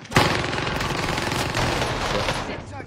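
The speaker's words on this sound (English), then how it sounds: "I'm taking fire!" Dense automatic gunfire rattles almost continuously in a Warzone match, loud and close, with a sharp burst near the start and voices partly buried underneath.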